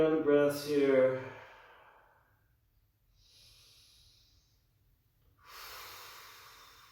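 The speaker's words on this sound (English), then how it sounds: "Keep the breath steady for another round of breaths here." Slow, audible breaths during a yoga pose: a strong voiced exhale at the start, then softer airy inhales and exhales separated by quiet pauses, heard close with no talking.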